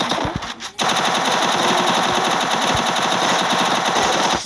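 Rapid automatic gunfire rings out in a battle royale video game custom match, a sustained loud burst after a brief lull, with dense repeating shots to the end.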